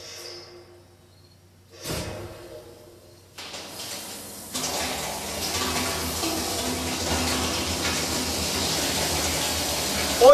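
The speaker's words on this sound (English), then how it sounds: "Oil tank filling with water to be heated by solar." Water gushing into an oil tank being filled for solar heating, starting as a faint trickle then swelling into a steady, loud rushing flow that fills the rest of the stretch.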